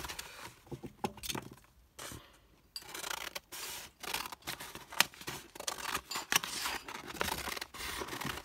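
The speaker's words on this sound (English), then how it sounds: "I'm gonna cut it along a line." Scissors or a blade cut along a marked line through sheet material, giving quiet, irregular snips and rubbing scrapes with brief pauses between strokes, close by.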